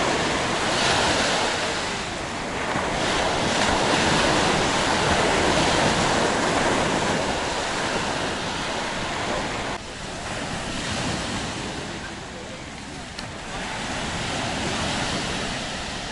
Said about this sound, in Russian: снять для вас море, волны и вот эту вот всю потрясающую атмосферу